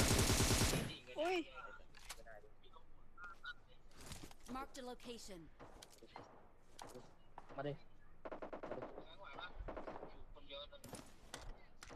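Gunfire rings out in the mobile battle game PUBG Mobile, with sharp single shots and short bursts scattered across the stretch, under frequent excited talk between players.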